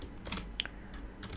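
Computer keys click in a short burst of typing as code is entered, close and soft against a low background hum.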